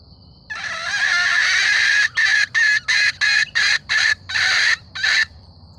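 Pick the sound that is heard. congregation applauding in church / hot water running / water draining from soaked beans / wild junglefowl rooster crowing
wild junglefowl rooster crowing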